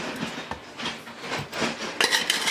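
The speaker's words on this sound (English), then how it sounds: "I just store it in a glass jar in my cabinet" A glass jar of homemade eggshell calcium powder is handled near the microphone, giving a few soft clinks and rubbing knocks against the glass, followed by a brighter cluster of clinks toward the end.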